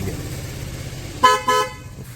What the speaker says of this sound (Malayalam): നമ്മുടെ ഹോണൊന്ന് നമുക്കൊന്ന് മുഴക്കി നോക്കാം